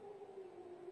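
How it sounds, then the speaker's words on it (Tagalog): An air raid siren sounds in Haifa as a faint, steady distant wail held on one pitch for a single second. "Yung sirena."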